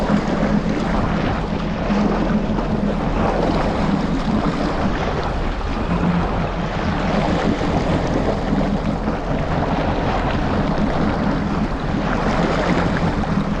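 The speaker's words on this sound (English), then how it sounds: "It's so windy" Strong wind roars steadily against the microphone, a loud constant rushing with a low rumble underneath, while riding a Yamaha GP1800R SVHO personal watercraft fast over the Atlantic Ocean.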